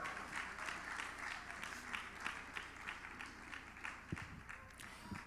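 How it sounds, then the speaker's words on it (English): Faint, distant applause from a panel audience at a journalism forum, a soft rippling patter of many hands clapping steadily with a few sharper claps near the end. "Please, a round of applause for her as well."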